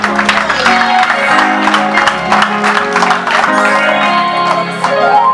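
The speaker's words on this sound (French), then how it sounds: "Je souhaite qu'on applaudisse très fort pour la chorale." Applause mixed with crowd noise and singing or music from a choir at a funeral, loud and continuous throughout.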